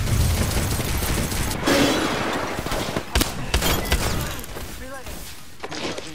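Apex Legends combat: a rapid burst of gunfire and a grenade blast crackle loudly up front. Sharp shots and thuds then break into scattered bursts, with game voices mixed in.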